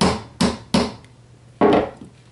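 A small hammer taps a pin into the plastic trigger assembly of a Mossberg 702 Plinkster rifle: four sharp, close knocks with uneven gaps and quiet between them.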